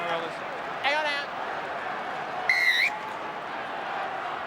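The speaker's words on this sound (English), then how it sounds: "I'll blow the whistle." Referee's whistle at a 2011 rugby league semi-final between Brisbane Broncos and St George Illawarra Dragons, two short trilling blasts cutting over steady crowd noise and commentary.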